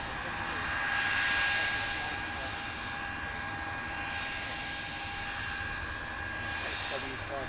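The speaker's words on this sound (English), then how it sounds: "XW544 plus a fast taxi run here at Buccaneer Airport, Kemble." A Blackburn Buccaneer jet, XW544, makes a fast taxi run at Kemble airfield, its engine roar steady and distant, swelling slightly before easing, with faint voices in the background.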